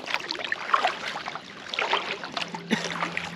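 Watery splashes and swishing from repeated kayak paddle strokes on the River Murray, Australia, fairly close, with a soft wind-like rush underneath and no voices.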